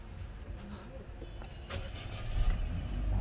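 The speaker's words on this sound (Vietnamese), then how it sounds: "Đó, máy đã nổ đây." A used Chevrolet Cruze engine cranks and catches, the sound swelling into a rising idle rumble inside the car over a few seconds, with nobody talking.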